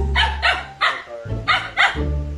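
A dog barks five or six times in sharp, close bursts, spaced about half a second apart, over a steady low hum.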